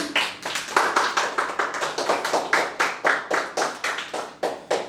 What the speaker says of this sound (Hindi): एक दफा फिर जोरदार तालियां पतरस के लिए